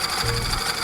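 A wood lathe spins at 700 RPM while a finishing tool cuts a log being turned into a Greek urn. It makes a close, steady whirring hum with a brief lower scraping note as the tool bites.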